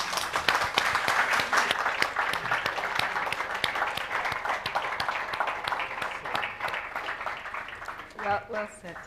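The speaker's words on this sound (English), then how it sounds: "I think they deserve a second round of applause." Applause from a crowd fills the room, dense and steady, tapering toward the end as a voice starts to speak.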